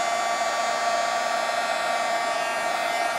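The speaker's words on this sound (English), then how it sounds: "never try to dry your hair with an embossing gun" A heat embossing gun blows hot air with a steady, loud whirring hiss, continuous and alone throughout.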